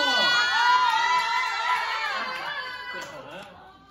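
Students in a software development class erupt in loud shouting and whooping cheers, voices rising together and then trailing off into scattered calls.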